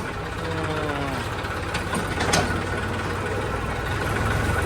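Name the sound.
tractor engine idling at grain market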